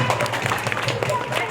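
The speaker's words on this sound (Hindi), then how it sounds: "बच्चों ताली बजा दो" Schoolchildren clap together at an Independence Day event, a brief dense patter of applause filling the room at moderate loudness with a voice audible over it.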